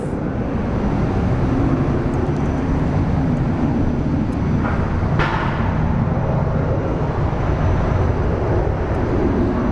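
A KC-135 tanker aircraft of the Arizona National Guard refueling wing roars steadily at an airport, a loud continuous broadband jet rumble lasting throughout with no pause.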